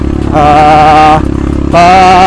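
A loud Honda CRF150L motorcycle engine with an aftermarket exhaust revs twice in quick bursts, a throaty, raspy exhaust note dipping briefly between the two pulls.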